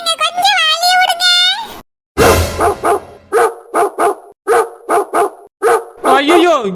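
A dog barks in a quick series of sharp, close, loud barks after a voice speaks at the start, with brief gaps between each bark.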